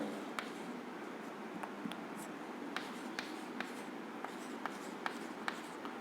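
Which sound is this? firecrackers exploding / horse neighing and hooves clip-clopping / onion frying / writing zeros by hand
writing zeros by hand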